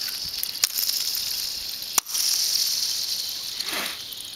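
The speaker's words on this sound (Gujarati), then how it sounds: "જોઈ શકો છો તમે કઈ રીતે આ બરફ સપાટી પર તૂટી રહ્યો છે." Ice cracking and breaking on the frozen surface of Castle Lake near Mt Shasta, a few sharp snaps over a hissing outdoor background, with a brief sliding sweep near the end.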